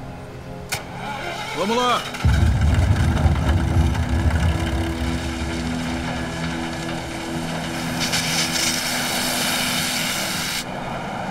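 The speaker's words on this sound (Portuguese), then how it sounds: "Tá tudo pronto pra ligar a planta." Heavy machinery of a gold mining wash plant starts up with a sudden loud rumble after a brief starter whine, then runs steadily with a continuous low engine drone and mechanical clatter, while someone speaks briefly near the start.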